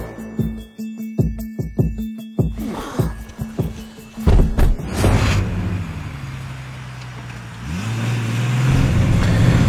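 A car interior starts with rhythmic clicks and thuds, then the engine starts and the car pulls away, its steady rumble and rising road noise building toward the end.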